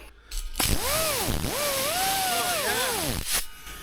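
An angle grinder with a fresh 120-grit flap disc strips mill scale from steel framework, its whine rising and falling in pitch as the load changes, loud and close, then cutting off near the end.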